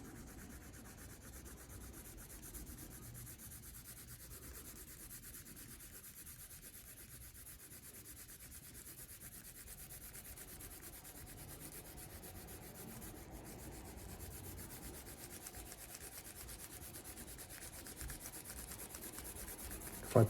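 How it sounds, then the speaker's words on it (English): Soft pencil shading over paper, a steady quiet rubbing and scratching texture heard alone and close throughout, with no talk. "Softer pencil over the top."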